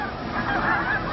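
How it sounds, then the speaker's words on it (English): A flock of snow geese migrating along the Atlantic coast at Chincoteague Island gives a continuous, layered chorus of honking. The calls come from a distance and keep overlapping without a break. "flocks of snow geese arrive on Chincoteague Island"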